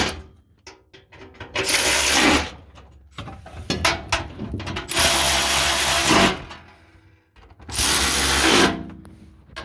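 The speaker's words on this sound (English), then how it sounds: "Now let's finish by ratcheting them on." A ratchet wrench tightens 12mm transmission bolts under a Subaru during a transmission install, with three long bursts of rapid clicking separated by pauses and some clanks of handling in between.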